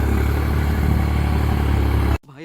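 A tractor engine runs loud and close as it arrives to pull out a stuck Suzuki Jimny, a steady rattling mechanical drone that cuts off abruptly near the end, followed by a voice talking.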